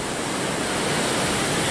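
Big Pacific Ocean waves break on a warm sunny shore, a steady, full roar of surf and wash filling the short span at even loudness with no talk.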